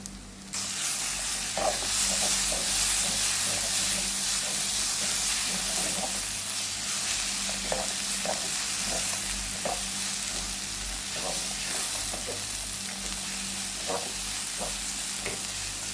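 Green mango with crushed mint and green chili sautéing in a pan, giving a loud, continuous sizzle with repeated stirring scrapes throughout and no voices.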